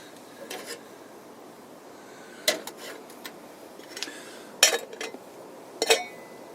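Metal pot and utensils clink and scrape in a camp canteen during outdoor cooking, with three sharp, fairly close clinks standing out over quiet background rubbing and light clatter, no talk.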